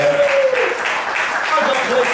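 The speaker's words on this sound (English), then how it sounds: "Give the applause to a maximum bass solo" Audience applause breaks out after a bass solo at a live country cover band show, dense steady clapping that fills the room for a couple of seconds with voices mixed in.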